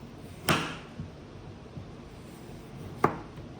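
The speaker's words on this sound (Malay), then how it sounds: "Kita potong ni." Knife cutting young papaya for pickle, two sharp chops on a board with a few fainter taps between them, close and fairly quiet.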